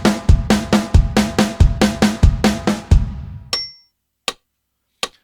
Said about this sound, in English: we're going to just play it between the snare drum and the bass drum first